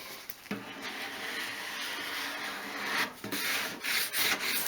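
A squeegee rubs application tape down onto a vintage metal fuel can in repeated scraping strokes, close and fairly loud, with brief pauses between passes.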